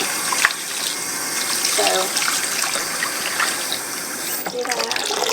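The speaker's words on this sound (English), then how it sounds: "We are going to rinse and rinse and rinse until when we squeeze it, the water is not green." Poke salat greens being rinsed under a running tap into a sink or bowl, a steady broadband splash of water throughout, with a brief spoken word near the start.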